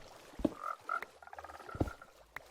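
Minecraft frogs croak near water in a short burst of calls: several deep, distinct croaks and a few higher chirping notes spaced irregularly, fairly close and alone without talk.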